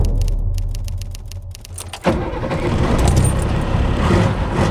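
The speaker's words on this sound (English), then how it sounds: "This is filling up the air compressor that sits underneath the truck." An air compressor mounted underneath a Unimog truck starts with a sudden onset and then runs as a steady, loud mechanical hum and rattle, preceded by a rapid ticking.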